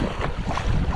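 Wind gusts roar steadily across the microphone while paddleboarding near rocks at sea, a dense, continuous buffeting rush with no voices.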